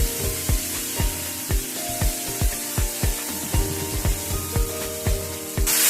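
Curry leaves and ginger garlic paste frying in hot oil for a spicy chicken stir fry, heard as rhythmic, regular scrapes of a utensil against the pan over a constant sizzle, close and loud.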